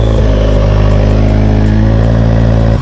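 A Toyota GR86 engine running steadily at close range with a loud, even drone after an IS300 rear differential swap, cutting off at the end with no talk.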